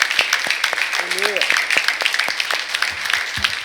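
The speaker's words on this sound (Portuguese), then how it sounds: "dá mais uma salva de palmas ao Senhor" Applause from a standing church congregation at a Bible study, a steady close wash of many hands clapping throughout, with a brief voice heard over it.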